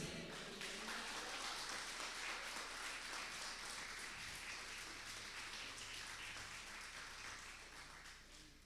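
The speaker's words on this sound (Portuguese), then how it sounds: "Pode glorificar Ele, aplaude." Church congregation applauding during a Portuguese-language sermon, a long continuous wash of many hands clapping at once, distant and faint, that tapers off at the end.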